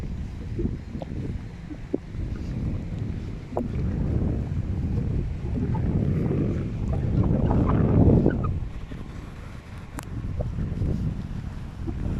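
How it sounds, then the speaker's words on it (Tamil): Gusty wind buffets the microphone in uneven low rumbles, rising and falling, with faint scattered clicks and no voices, beside the Melaka River. "செம்மையான காற்றடிக்குது."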